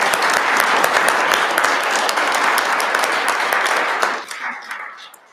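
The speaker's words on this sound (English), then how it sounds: "I think we need to give them a round of applause." A crowd applauds loudly and steadily for several seconds, then the clapping thins out and fades.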